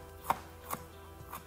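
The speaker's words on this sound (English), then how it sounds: "I'll try to chop them small, just like so" A knife chops ingredients for a summer-roll dip into small pieces, three distinct, crisp strikes on a cutting board spaced unevenly over a quiet background.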